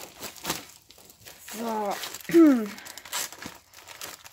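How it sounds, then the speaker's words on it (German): A plastic shopping bag from a German discount-store haul crinkles and rustles loudly up close as it is lifted, while someone speaks briefly. "Ich mal die Tüte hochholen."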